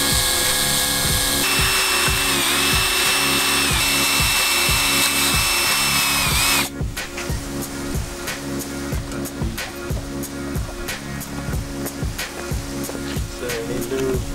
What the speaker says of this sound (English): we're going to have to drill a hole